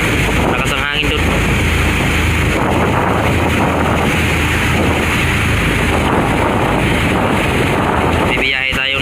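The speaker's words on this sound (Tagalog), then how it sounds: "Lakas ang hangin doon." Strong wind roaring across a boat deck at sea, a constant loud buffeting rush against the microphone with a low engine-and-water rumble underneath, continuous for the whole stretch.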